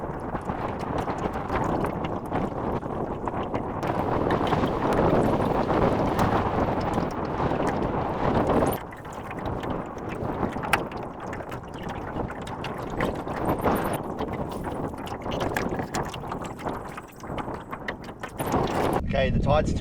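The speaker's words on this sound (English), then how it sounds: "The wind's dying off." Steady wind and water wash around a small aluminium tinny on a tidal estuary on a calm day, a continuous broadband rush with brief dips and a short pause midway.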